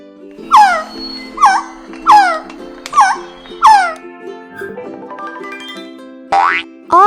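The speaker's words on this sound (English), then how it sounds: "A quetzal sounds like this." A quetzal call sounds as a series of five loud, clear whistled notes that each slide downward, evenly spaced and close, followed by a softer warbling phrase and a final rising note, over a steady musical backing with no talk.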